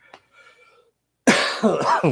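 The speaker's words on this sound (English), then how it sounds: "As I cough in your ear." A single loud, close cough bursts out after a quiet moment, harsh and breathy, with a couple of rough follow-up spasms.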